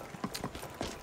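Horse hooves clip-clop in a few quick, close steps in modded Skyrim, a brief burst of light knocking beats with no talking.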